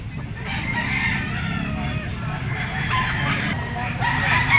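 Roosters and chickens in scratch pens crow and cluck in a continuous, busy chorus, some near and some farther off, with someone talking intermittently over the birds.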